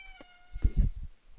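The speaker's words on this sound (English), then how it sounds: "That's a cat. It's a cat." A cat meows twice in quick succession, a short high cry followed by a louder, longer one, heard fairly close over a quiet room with faint low background noise.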